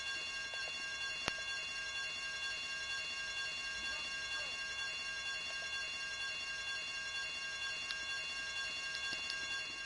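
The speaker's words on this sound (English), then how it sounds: "I told you not to touch that alarm!" Electronic alarm ringing in the video game GTA Vice City, a continuous high-pitched buzzing tone holding steady and fairly loud throughout, with faint background noises beneath.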